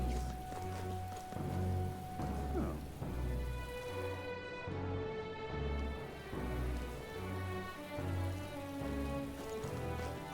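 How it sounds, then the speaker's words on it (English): Steady rain falling in a storm in the video game Metaphor: ReFantazio, a continuous hiss with thunderous low rumbles and an orchestral music score running underneath. "This rain just won't cease."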